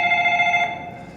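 A telephone bell rings loud and close in one bright, sustained burst that cuts off partway, leaving a quiet room murmur behind it.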